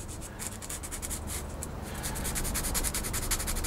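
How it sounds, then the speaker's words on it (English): Medium grit sandpaper rubs back and forth against a small tab in quick, rhythmic strokes, close and fairly quiet, growing slightly louder toward the end with no speech. "sand that bit of a tab back like so"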